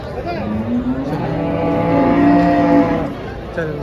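A cow at a Dhule cattle market gives a long, loud, close moo that rises and holds for a few seconds, with faint crowd chatter around it.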